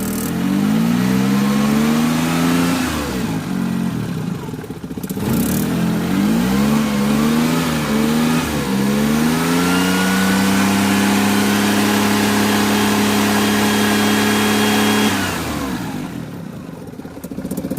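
The engine of a 2001 Maruti 800 car idles and revs up and down nearby, a loud, steady mechanical drone rising in pitch with the throttle, then settling to a sustained held rev before easing off.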